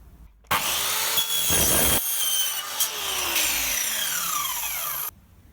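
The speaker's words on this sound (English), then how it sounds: "I just roughened up the end of the pipe with a little bit of sandpaper" Sandpaper rubs hard against the end of a 2-inch PVC pipe in one sustained, loud, gritty scrubbing stroke lasting several seconds, close up and alone.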